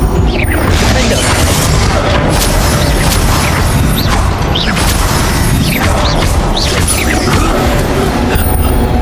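Repeated blasts of the Confringo fire spell in Hogwarts Legacy, loud booms and crashes over a dense, continuous bed of game combat noise with whooshing spell effects throughout.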